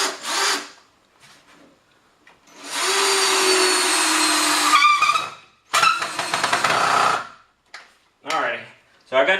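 A power drill drives screws into wood in several short bursts, the longest lasting about two seconds, separated by quiet pauses. The whine is close and loud, with clicks and handling noise between the runs.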